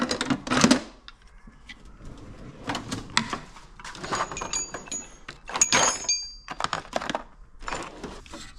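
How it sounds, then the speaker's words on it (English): A small ratchet clicks in quick bursts on the fuel pump bolts of a Dodge Duster, with several separate runs of sharp metallic ticking and pauses between them. "We'll try a small ratchet first."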